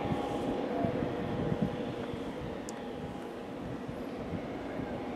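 An EasyJet airliner from Porto approaches Madeira Airport, its broad, steady engine roar rumbling from a moderate distance with faint wind noise throughout.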